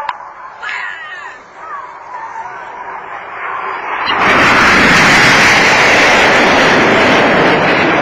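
Red Arrows BAE Hawk jets fly the infinity break at an airshow in Southport, a faint whine building to a sudden loud roar of jet engines that holds strong overhead.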